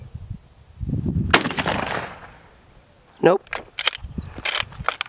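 Gunshots fired at a pumpkin: a couple of sharp, loud reports with a decaying boom, followed by shorter pops, close by, with someone speaking briefly between shots.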